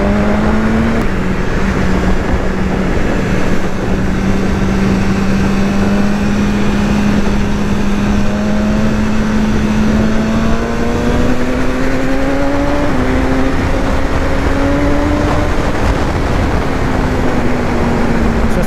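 A BMW S1000R motorcycle engine drones loud and close, its pitch climbing in steady rising pulls through the gears, with wind roar underneath.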